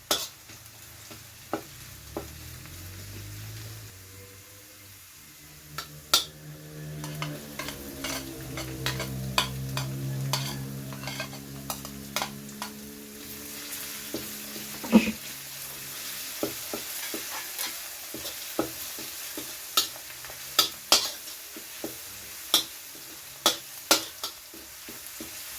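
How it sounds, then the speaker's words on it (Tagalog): Ginger and garlic sizzle steadily in a pan over medium heat while a utensil stirs them, with frequent sharp scrapes and clinks against the pan and no voices. "Kapag nag-light brown na yung luya, ilagay natin yung bawang."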